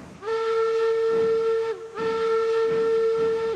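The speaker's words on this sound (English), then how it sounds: "Really confident whistle." Steam locomotive whistle in the railroad game Railroads Online, two long steady harmonic blasts with a short break between, loud and close with no talking.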